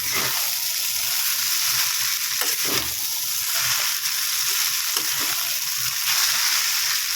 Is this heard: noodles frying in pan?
yes